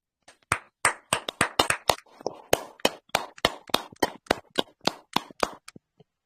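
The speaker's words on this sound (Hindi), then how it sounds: "सभी लोगों के लिए मैं चाहता हूं कि एक जोरदार ताली होनी चाहिए" An audience claps in unison in a loud, steady rhythm of about twenty sharp claps. It ends with a few trailing claps.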